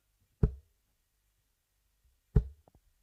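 Two sharp thuds about two seconds apart, each a tungsten dart striking a dartboard, the second followed by a faint crunching tick as the darts hit together; close and otherwise quiet.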